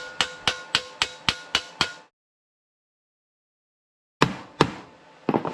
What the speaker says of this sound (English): take a hammer and a dolly, put this dolly right there, and we're just gonna hammer this.